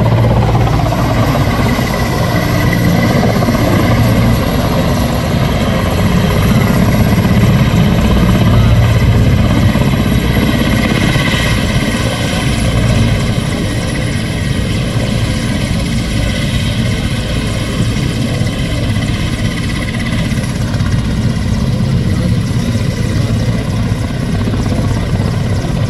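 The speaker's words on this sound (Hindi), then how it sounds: "आप देखिए हेलीकॉप्टर जो है आसमान में मंडरा रहे हैं। ये हेलीकॉप्टर थोड़ी देर बाद यहाँ पर लैंड करेगा।" A helicopter circles overhead and comes in to land at a helipad where crowds have gathered for a vice-presidential visit, its rotor thumping loud and steady throughout with no talk.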